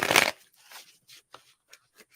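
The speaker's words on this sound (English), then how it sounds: "So I'm just going to shuffle again and then get some cards." Tarot cards being shuffled by hand: a dense riffling burst at the start, then a few soft, sparse card flicks and taps, close and quiet with no talk.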